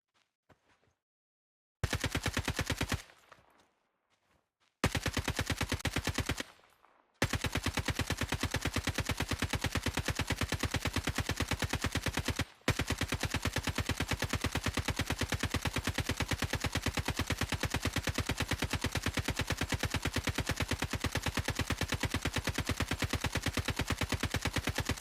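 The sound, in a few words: gunfire in video game Call of Duty Mobile DMZ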